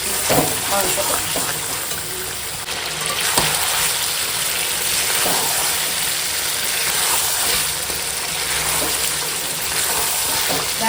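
Chicken meat being sautéed (kosha) in a pan for a winter-vegetable khichuri meal, giving a steady, close, continuous sizzle with occasional stirring scrapes throughout.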